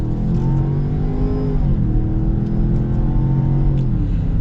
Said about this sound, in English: let's get our acceleration with the baby Bronco